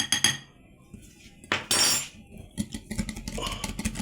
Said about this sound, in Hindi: कुकिंग ऑयल डालने के बाद अच्छी तरीके से मैं इसको फेंट लूँगा।